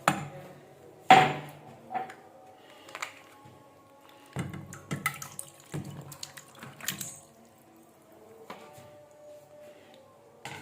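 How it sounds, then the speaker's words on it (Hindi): Water and raw chicken go into a cooking pot for chicken pakoras: short, sporadic splashes and pours mixed with soft clunks of the pot, separated by quiet gaps. "मेरे पास बर्तन है, इसमें थोड़ा सा हम पानी डालते हैं, चिकन डालते हैं"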